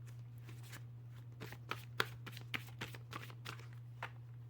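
Tarot cards being shuffled close by, a run of soft riffling slaps and flicks in an uneven rhythm, quiet over a steady low electrical hum.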